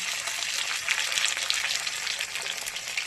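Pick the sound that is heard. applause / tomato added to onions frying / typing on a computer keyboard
tomato added to onions frying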